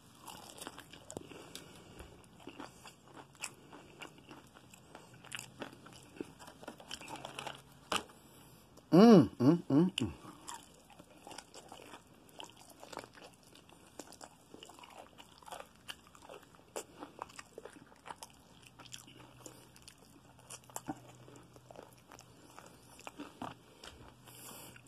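Taco Bell crispy chicken wings crunch in a single close bite with brief crackling, followed by quiet soft chewing and small mouth noises that run faintly through a largely hushed indoor room.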